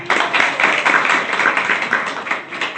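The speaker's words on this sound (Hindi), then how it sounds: "इनके लिए तालियां बजाइए" Steady clapping from an audience at a devotional gathering about Chaitanya Mahaprabhu, dense and continuous at close range with no voices over it.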